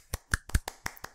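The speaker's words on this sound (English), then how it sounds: "Two horrendous clapping noises." A few sharp, sparse hand claps are heard close by, about six quick separate strikes in just over a second from a small group or a single person, thin and quiet against silence.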